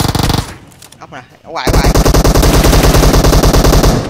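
Rapid automatic gunfire in the mobile battle-royale game PUBG Mobile, loud bursts at the start and then a long sustained stream of close shots, with a player briefly speaking between them.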